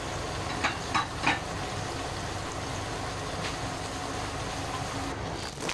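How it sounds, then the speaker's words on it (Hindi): Potato, carrot, tomato and eggplant frying in a pan while being stirred with a spoon: a dense, even sizzle with a few soft scraping strokes early on, close and continuous, no voices. "सारी सब्ज़ियां डाल लेने के बाद हम 5 मिनट तक इसे अच्छी तरह भूनेंगे और अच्छी तरह चलाते रहेंगे।"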